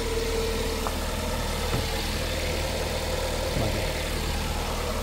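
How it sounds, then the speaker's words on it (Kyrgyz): An assembled used car engine idling in a yard: a steady, even low hum and rumble that holds throughout, with a couple of faint ticks on top and no voices. "Куралган мотордун иштеши жакшы"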